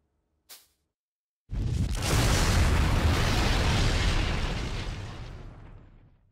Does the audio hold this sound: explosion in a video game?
yes